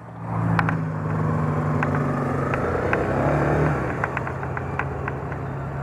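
Onboard ride on a Honda XRE motorcycle through city streets, a steady engine drone with wind rush, rising briefly as the bike accelerates, no talking.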